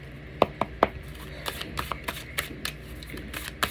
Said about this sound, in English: Okay, that was a good shuffle too.